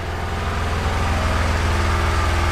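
A Nissan six-piston engine aboard a large wooden fishing boat being converted to fiber runs at a steady low idle, a continuous close rumble with an even rhythmic throb throughout.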